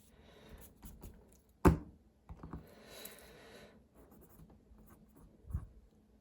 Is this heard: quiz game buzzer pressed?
no